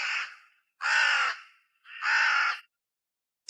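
A crow caws three times as an effect in a Filipino aswang horror tale: long harsh rasping calls with short gaps between, loud and close against silence, the start of a fourth cut off at the end.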